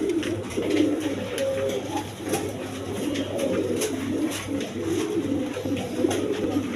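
A red Raj Golla pigeon coos close by in repeated low, throaty phrases, steady and clear with no other voices.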